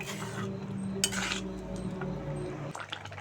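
Tomato chutney with dates and cashews gets stirred in a pan, a spoon scraping and clinking against metal in quick bursts over a low steady hum, close and moderately loud with no talking.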